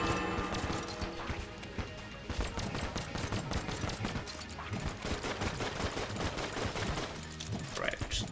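Rapid gunfire in the Enter the Gungeon video game, dense continuous bursts of sharp shots and clattering impacts, loud and close, with a voice talking over it.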